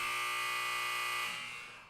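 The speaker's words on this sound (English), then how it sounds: "where the buzzer, where the buzzer, where the buzzer" A harsh, steady electronic buzzer drones loudly for over a second, then cuts off and leaves a fading tail.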